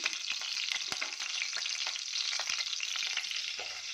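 Fennel seeds sizzle vigorously in hot oil in a pressure cooker pot, a dense continuous crackling hiss with scattered sharp pops, close and fairly loud, no talking.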